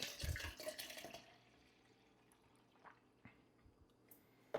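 Minute Maid drink poured into a big cup: a brief splashing pour opens the moment, then fades to near silence broken by a few faint clinks and taps.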